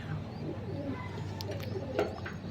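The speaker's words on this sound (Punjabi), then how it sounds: "ਸਾਰੇ ਕਬੂਤਰ ਓਕੇ ਆ ਬੈਠੇ ਆ ਡੰਡਿਆਂ ਤੇ" Soft coos of pigeons perched on loft rods murmur in a low, rolling rhythm, fairly close but quiet, with a few faint clicks and rustles.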